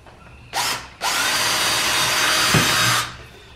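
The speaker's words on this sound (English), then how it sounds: "So now I'm going to drill the top of this in." A power drill starts with a short burst, pauses, then runs steadily for about two seconds before stopping, drilling a screw hole into a metal bar. It is loud and close, with a faint click partway through.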